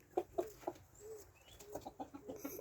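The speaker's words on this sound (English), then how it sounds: "Ah dear, they are funny chickens." A few chickens cluck softly in short bursts, fairly close, with quiet outdoor ambience and faint bird chirps between the calls.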